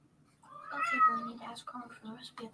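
A cat meows loudly in a long, drawn-out wail, followed by a few shorter yowls, close and clear in a quiet room.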